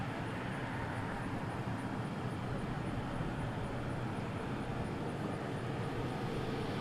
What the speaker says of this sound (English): This looks like an A321neo.